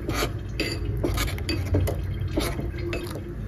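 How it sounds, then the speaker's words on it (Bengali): A spoon stirring water into a milk pudding mixture in a metal or glass vessel, giving repeated close scraping and clinking strokes in a steady rhythm, with no voice over it. "পানিটা দেওয়ার পরে এটা ভালোভাবে মিশিয়ে নেব আমি"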